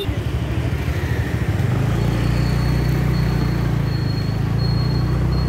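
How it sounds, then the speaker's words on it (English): Steady hum of a scooter riding along a street in Andheri West, continuous engine drone with a low rumble and road noise, close and loud throughout. "We just ride from my scooty and we'll just check out the distance."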